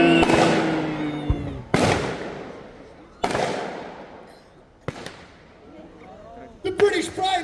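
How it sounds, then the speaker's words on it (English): Deck gun on a model submarine firing during a staged naval battle show at a park lake, several loud sharp bangs spaced a second or so apart, each followed by a long echoing decay, with crowd noise between. "the submarine commander decides to finish off the helpless vessel with his deck gun"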